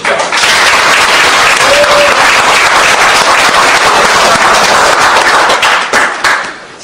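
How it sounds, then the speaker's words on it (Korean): Loud, dense applause fills the hall at a party's provincial founding convention, a sustained wall of hand clapping from a large crowd that fades out near the end. "강원도당 당원들에게 격려의 박수를 다시 한번 보내주십시오"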